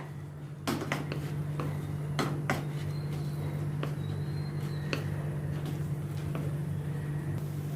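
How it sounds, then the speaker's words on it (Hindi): Toasted bread pieces stirred with masala in a pan on a home stove, a series of sharp spoon-on-pan scrapes and knocks over a steady low hum, close by with no talking. "ये सब मैं इसमें डालती हूँ और इनको अच्छी तरह से मैं मिक्स करती हूँ मसाले के साथ"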